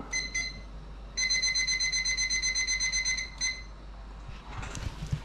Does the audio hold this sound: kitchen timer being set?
yes